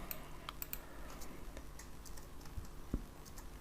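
Quiet computer keyboard keys tapped while typing code, soft scattered clicks with one sharper knock near the end, no voices.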